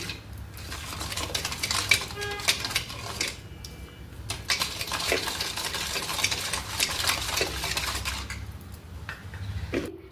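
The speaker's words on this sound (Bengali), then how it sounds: "এবার এটা ভালো মতো আমি ফেটিয়ে একটা ক্রিমি টেক্সচার করবো। এটাকে ভালো মতো ফেটিয়ে নিচ্ছি।" Yogurt and sugar are whisked briskly in a bowl toward a creamy texture, a continuous close clatter of utensil against the bowl with rhythmic scraping and clinks, no speech.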